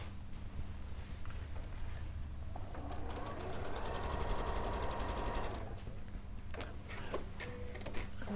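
Sewing machine running a straight stitch on a chained star quilt, a steady close mechanical whirr that swells in the middle and then tapers into a few scattered clicks, over a low background hum.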